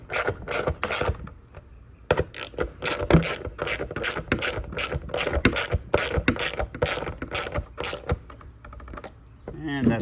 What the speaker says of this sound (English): Remember, you're screwing into plastic here, so snug is all you need.